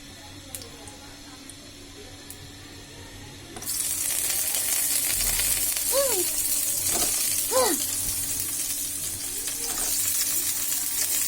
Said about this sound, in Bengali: শুরুতে আমি একটু তেল দিয়ে ডিমগুলো ভেজে নিব